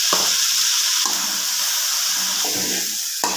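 Ivy gourd frying with salt and chilli powder in a pan, giving a steady loud sizzle broken by a few sharp stirring scrapes, close by and with no voices.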